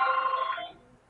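A phone rings with a short electronic bell-like trill, fairly close and clear, ending after about half a second as a softer tail fades out.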